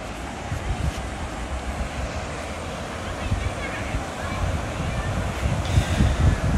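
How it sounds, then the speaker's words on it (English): A river running fast after rain as it flows past a park in Deloraine, Tasmania, gives a steady, close, broadband rush with no breaks, while wind buffets the microphone throughout. "there is a river here that flows past the park in Deloraine"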